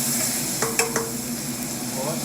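Venison balti sizzling over a high flame in a balti bowl, a steady frying hiss with a few sharp clanks of the stirring utensil against the metal partway through.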